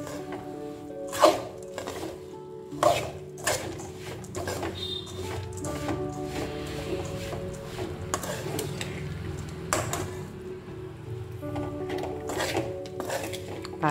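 Aval pori puffed rice flakes coated in jaggery are stirred in a pan with the stove off, making repeated clattering scrapes and metallic knocks of a spoon against the pan and a crisp rustle of flakes, close and uneven.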